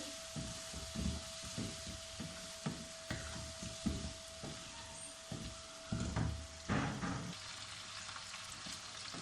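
Cumin and black pepper roast in a pan with onions and chicken, a soft continuous sizzle broken by light stirring taps and scrapes, quiet and close with a faint steady hum behind it.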